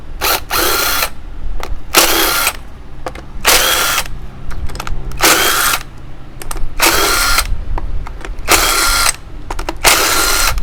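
A cordless drill backs the screws out of an engine cover on a Kawasaki RR motorcycle outdoors. It gives seven loud, close whirring bursts of about a second each, separated by short pauses with faint clicks, and no one speaks.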